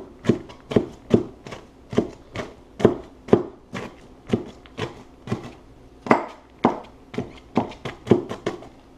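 A knife slices an onion on a cutting board in a steady run of about twenty crisp, close chops at an even pace, with no talking.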